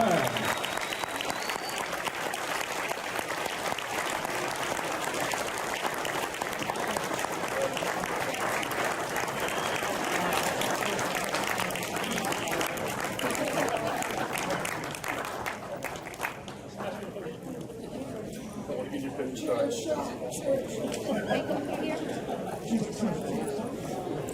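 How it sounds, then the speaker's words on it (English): Convention crowd applauding wrestlers at a fan event in Orlando, a long sustained roar of clapping with chatter mixed in, thinning out in the final stretch as voices take over. "A big round of applause for the wrestlers here at Piperand."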